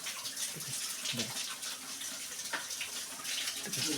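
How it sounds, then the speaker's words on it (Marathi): A waterfall at the Jatashankar temple site in Jalgaon Jamod, Buldhana, gives a steady, faint rushing splash of falling water, continuous and somewhat distant, with no voices over it. "जटाशंकर बघा पाठीमागे मस्त धबधबा येत आहे"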